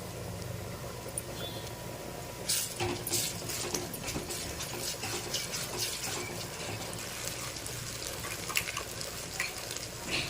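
Ginger garlic paste fries for a fish curry in a pan with a soft continuous hiss and occasional scrapes and clinks. The sound is faint and steady throughout.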